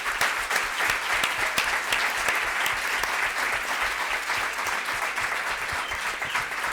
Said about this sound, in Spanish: Así que un aplauso para Diana.